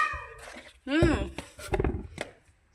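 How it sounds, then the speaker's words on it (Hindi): A kitten, which turns out to be a full-grown cat, gives a short rising meow-like cry among other brief sounds, while a person talks nearby. "ये बिल्ली का बच्चा है, तो पूरी पूरी बिल्ली है"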